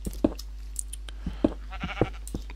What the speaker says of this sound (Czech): Tu slyším ovečku a furt nic